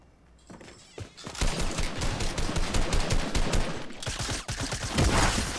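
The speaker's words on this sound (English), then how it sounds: "Holy shit, he had a shotgun." Rapid gunfire in Fortnite, presumably including a shotgun, bursts out after a short quiet start and keeps rattling loudly in quick overlapping shots until the end.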